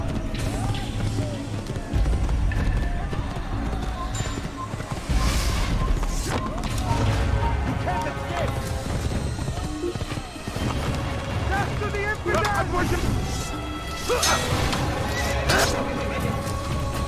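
Horse neighs and hooves clip-clop at a gallop in the Assassin's Creed video game, set among a dense, busy game soundtrack with crowd noise and crashes, the whinnies rising clearly above the mix.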